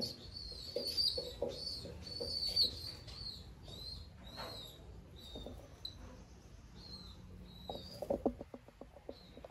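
Madrasi pigeons call softly in a loft amid bright chirping from nearby birds, with a brief flutter of activity near the end.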